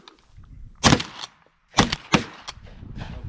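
Shotguns fire at thrown clay targets during practice for dove hunting: loud, sharp outdoor reports, one early and then a quick cluster of three to four shots, each with a brief ringing tail.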